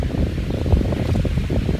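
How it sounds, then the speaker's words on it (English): Outdoor wind gusting hard across a microphone on a hiking trail, a loud continuous low rumble and buffeting with no speech. "now the wind is picking up. It's becoming somewhat fierce."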